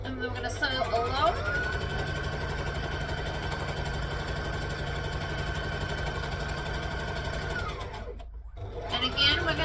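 A sewing machine runs a steady, continuous seam along a garment piece for several seconds, then stops briefly before starting again, with someone talking over the motor.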